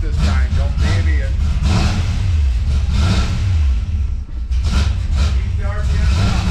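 A 1971 Dodge Demon engine revs hard and is held at high RPM, a loud throaty drone with wavering pitch rising and falling close by, with a person talking over it.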